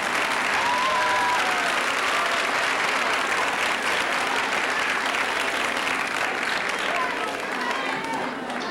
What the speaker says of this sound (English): How about a nice round of applause for Ms.